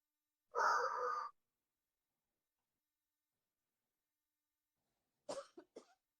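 A few short coughs, faint and close, follow a long drawn breath or sigh after a stretch of near silence, in a spoken release exercise of repeated coughing and yawning.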